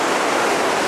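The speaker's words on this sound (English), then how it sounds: "I'll give you the idea how fast the water's flowing at the moment" Fast-flowing river water rushing past an old millstone at La Corot in Saint Junien, France, a loud, steady, close roar with no voices.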